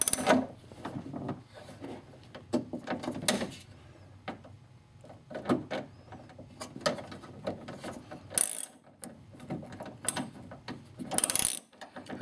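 Hand ratchet working a window bracket bolt on a 1994-2004 Ford Mustang, with rapid clicking pawl strokes in short bursts and pauses, close up and fairly quiet.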